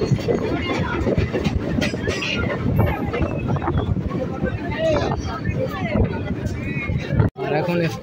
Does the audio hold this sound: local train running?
yes